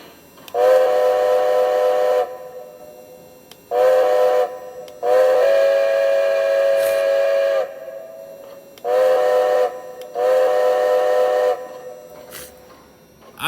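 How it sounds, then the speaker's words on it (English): The steam whistle of a Lionel Legacy Strasburg #90 2-10-0 model locomotive blows in a series of loud, close toots, some short and some long, with brief pauses between them. "Alright, here's the whistle."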